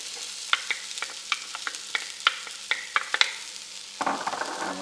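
Minced garlic dropped into softened, glassy onions frying in a pan for chilli con carne, a steady sizzle punctuated by regular scraping stirs, then a louder burst of crackling near the end.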